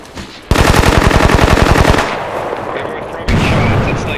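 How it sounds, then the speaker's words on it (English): Gunfire in the video game Bellum: a loud, fast automatic burst of about twenty rounds, then a lull and a second close burst near the end. "I just hear some of y'all firing like every less than a second."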